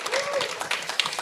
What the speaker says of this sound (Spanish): dele un aplauso al Señor